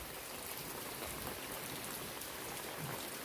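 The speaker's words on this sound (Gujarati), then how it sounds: "બહુ વરસાદ છે" Heavy rain pours steadily on a farm, a dense, even hiss of falling water that stays loud and unbroken throughout.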